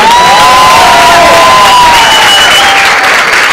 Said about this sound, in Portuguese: nós precisamos aplaudir o mestre Dida